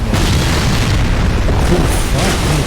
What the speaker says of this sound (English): You have an explosion to run from.